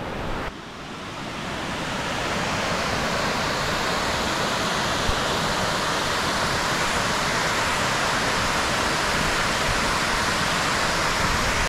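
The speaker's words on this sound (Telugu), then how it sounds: "వాటర్ ఫాల్స్కి అయితే వచ్చేసినాం." A mountain waterfall in Araku roars as a dense, steady rush of water after a brief quieter start, loud and unbroken throughout.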